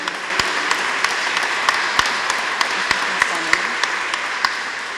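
Applause from a concert audience inside a basilica in Szczepanów, a steady reverberant wash of many hands with scattered sharper claps standing out, continuing under a voice speaking over it.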